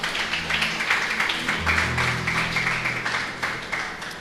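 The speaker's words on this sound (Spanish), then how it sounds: "Le damos un fuerte aplauso al Señor" A church congregation applauding together, dense rapid clapping sustained at moderate level, with a voice and low tones heard underneath.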